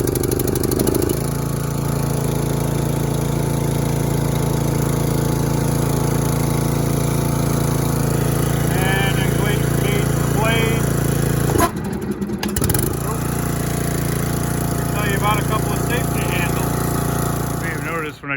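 A DR field and brush mower's small engine runs steadily and loud, a continuous throbbing drone that briefly cuts out and restarts near the end, with someone talking over it.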